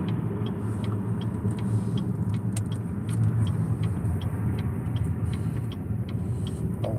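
A car rolls along a bumpy road, its steady low engine and tyre rumble filling the cabin, with repeated small thumps and rattles as it hits bumps, heard close and continuous.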